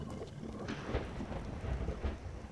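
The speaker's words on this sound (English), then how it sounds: "just a storm coming in, freaking me out." A thunderstorm in the Cycle Frontier game: steady rain hiss under low rolling thunder rumbles, with a few heavier booms swelling in and out, fairly loud and continuous.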